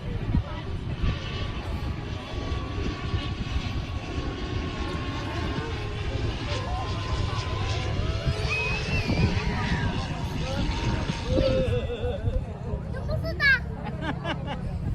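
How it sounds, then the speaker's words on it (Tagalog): An airplane comes in low to land, a steady broad engine roar sustained throughout with a crowd of people talking and chattering excitedly nearby over it. "may aeroplano maglalanding eh"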